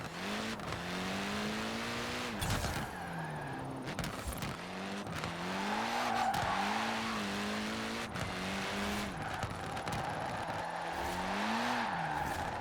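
A car engine in Forza Horizon 4 accelerates hard uphill, revving through repeated gear changes with rising and falling pitch, loud and continuous, with occasional tire noise.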